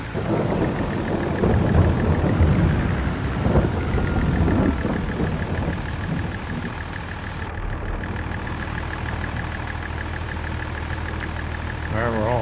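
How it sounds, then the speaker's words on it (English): Rain falling in the video game Farming Simulator 22, a steady loud hiss of rainfall with low rumbling and a faint droning tone running under it, with someone talking over the first few seconds. "we gotta wait for the rain."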